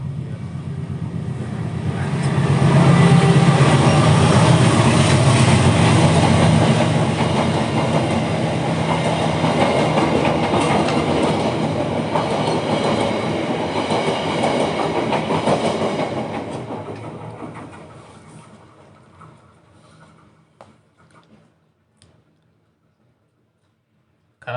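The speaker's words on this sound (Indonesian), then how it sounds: "Ada kereta dulu ya." A train passing nearby, a loud rumbling roar with rail clatter that holds for about fifteen seconds, then fades away into near silence, with no voices.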